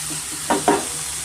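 Vegetables frying in a pan for vegetable avalakki, a steady low sizzle with two quick stirring scrapes close together in the middle.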